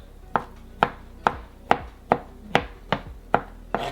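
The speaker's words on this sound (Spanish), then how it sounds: "ahora vamos a picar nuestra coliflor" A knife chops soft, cooked cauliflower on a cutting board for a vegetarian ceviche. About nine crisp, evenly spaced thuds land roughly twice a second, close up and alone.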